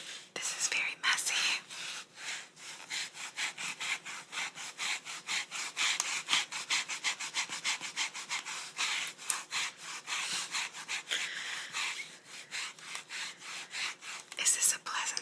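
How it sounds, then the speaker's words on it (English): Erasing handwriting on paper makes quick rhythmic scrubbing strokes, close and crisp, in steady back-and-forth bursts that continue for several seconds with no one talking. "Let's now erase and continue on."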